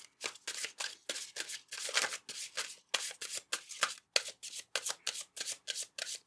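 Tarot and oracle cards are shuffled by hand in quick, crisp riffling bursts, close and fairly loud, repeating rhythmically throughout with no talking.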